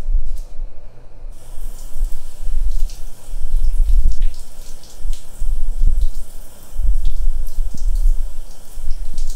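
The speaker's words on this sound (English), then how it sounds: "So I'm just gonna rinse these real quick." Bay leaves rinsed under a running kitchen tap for potato leek soup, a continuous close rush of water with splashing bursts and no talking.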